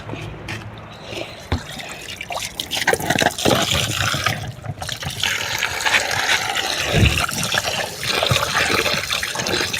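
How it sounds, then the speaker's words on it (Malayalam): Water used for washing fish is poured onto the base of a curry leaf plant outdoors, a continuous splashing and trickling pour that grows louder and fuller as it goes on. "കരിയപ്പലയുടെ മൂട്ടിൽ മീൻ കഴുകിയ വെള്ളം ഒക്കെ എടുത്ത് ഒഴിക്കുന്നത് നല്ലതാ"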